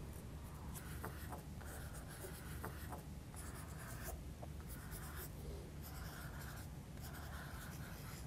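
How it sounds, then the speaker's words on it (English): Inktense coloured pencil scribbling on damp fabric: close, continuous scratchy strokes in quick bursts with short pauses, over a steady low background hum. "So I'm just going to keep scribbling"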